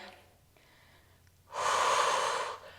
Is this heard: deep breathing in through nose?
yes